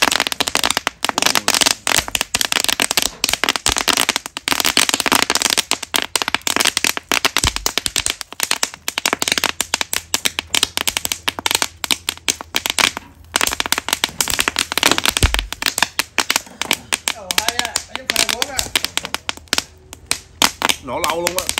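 Fish roe bursting in a pan with rapid, dense crackling pops like Tet firecrackers, sharp bursts coming in quick irregular volleys throughout, while people talk over the noise.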